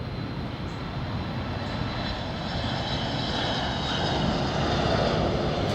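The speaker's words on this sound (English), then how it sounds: "Sorry, there's a plane." A propeller airplane drones overhead as a loud, steady, continuous engine roar that builds slightly toward the end, heard on its own without talk.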